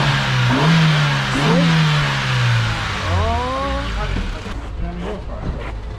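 An old Honda car bought for a banger endurance race rumbles and revs loudly, its pitch rising and falling in several pulls before easing back, with people talking over it.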